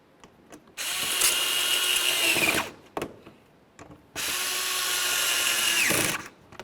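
A power drill drives mounting screws inside the fender wheel well of a 2005-2010 Chevrolet Cobalt, giving two sustained whirring bursts with a few short clicks and knocks between and after them.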